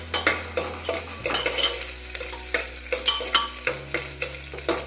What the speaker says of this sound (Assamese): মই আৰু অকণমানহে ভাজিম মই পিঁয়াজখিনি।